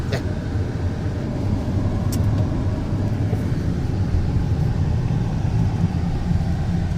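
Steady engine rumble from a car being driven, with a continuous low drone and road noise filling the whole stretch and no clear break for a gear change.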